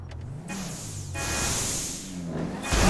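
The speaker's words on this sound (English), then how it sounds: "just get in this car and let's try to gain some speed" A car in the video game GTA 5 accelerating, its engine rising and swelling in pitch and loudness over a few seconds with a rushing whoosh, close and continuous.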